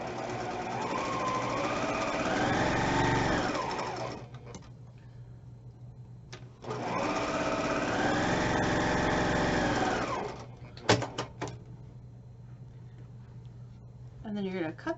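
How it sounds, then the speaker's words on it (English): A sewing machine stitches quarter-inch seams on fabric in two steady runs of rapid mechanical whirring, close and fairly loud, separated by a pause with small clicks and handling noises. "Draw a line and then sew 1/4 inch on either side of the line."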